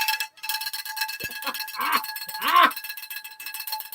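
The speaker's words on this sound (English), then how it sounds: "Here's Grandma again with the bell, everybody." A handheld cowbell-style bell rung by a football fan during a Saints vs Panthers game, a few clangs and a short ringing burst heard close up amid room noise.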